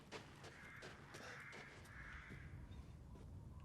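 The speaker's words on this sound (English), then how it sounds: "Hearing crows, I'm like, I think it's just sound effects" Crows cawing repeatedly in the Resident Evil Village game soundscape, a steady run of harsh calls over a continuous ambient background, with no speech.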